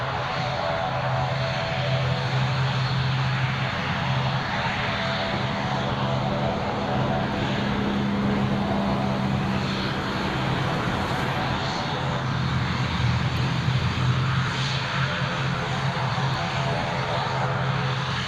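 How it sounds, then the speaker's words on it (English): A British Airways airliner at Newcastle Airport produces a loud, sustained engine roar with a steady low hum and tonal whine, continuous throughout; voices talk faintly beneath it. "it's the British Airways now"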